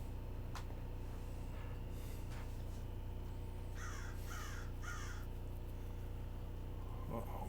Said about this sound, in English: Uh-oh, here come the crows.